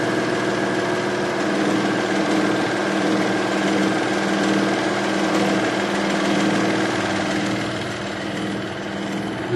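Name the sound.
serger sewing machine stitching fabric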